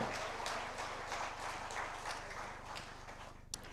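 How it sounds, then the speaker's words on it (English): Audience applause fills a convention hall at the MMA Annual Convention 2024, a dense, steady clatter of many hands that holds for several seconds over a faint low hum. "let's give them a big round of applause"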